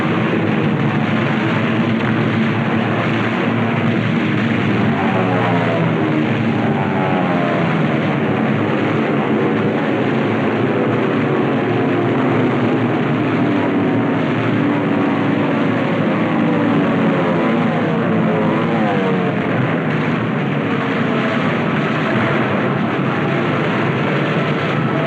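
Propeller warplanes dive in on Truk with a loud, continuous engine roar whose pitch swoops as they pass. The sound is dense and unbroken, with no talk.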